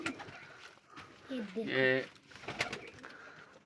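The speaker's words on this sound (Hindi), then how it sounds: "ये देखो माशाल्लाह कैसे कैसे कबूतर हैं।" Pigeons coo in low, soft murmurs while someone talks over them, his voice louder and nearer than the birds.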